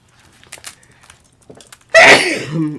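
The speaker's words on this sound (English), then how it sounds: "Oh, I'm going to sneeze. I just know I'm going to sneeze." A single loud sneeze bursts out after a few seconds of quiet rustling and faint breathing, close to the microphone.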